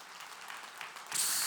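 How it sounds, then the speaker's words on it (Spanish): Church congregation at a Spanish-language sermon breaks into applause, a soft diffuse clatter of many hands that swells and grows louder near the end. "denle un aplauso"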